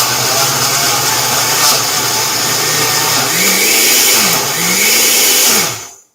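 Blender whirring loudly and steadily as it churns frozen mango and pineapple into sorbet, the motor pitch dipping and rising as the fruit catches, then cutting off abruptly at the end.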